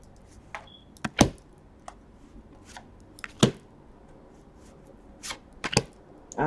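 Tarot cards shuffled in several separate bursts, each a crisp riffle or slap of the deck against a quiet room background, spaced irregularly with short pauses between.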